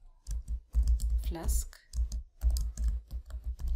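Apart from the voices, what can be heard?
typing on a computer keyboard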